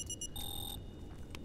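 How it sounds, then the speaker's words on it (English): Electronic alarm in the video game The Solus Project, a fast run of sharp beeps followed by a longer steady tone and a few fainter blips, fairly quiet over a low background rumble. "Oh my gosh, what is the beeping?"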